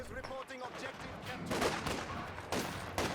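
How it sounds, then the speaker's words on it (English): Machine gun fire in the Company of Heroes 2 strategy game, rapid crackling bursts rising in the second half of the clip, fairly loud in a dense battle mix with a commentator talking over it. "machine gun set up and shuts down those conscripts"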